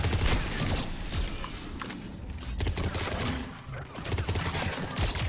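Dense, continuous crackling bursts of fire explosions detonating and gunfire-like pops in Mass Effect 3 multiplayer, loud and chaotic, with no pause throughout.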